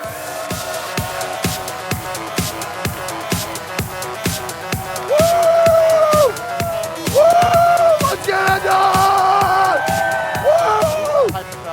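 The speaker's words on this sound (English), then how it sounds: "Please give a warm round of applause for your hosts, Ezekiel the Third." A live audience at the TwitchCon 2016 stage show claps in a steady rhythm and cheers loudly, with music and crowd noise rising midway through.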